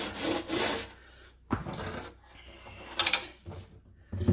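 Butter-based wood conditioner is rubbed by hand onto the wooden glides of an upturned vintage drawer. Close dry scrubbing strokes come in uneven bursts, with a few sharper knocks of wood between them.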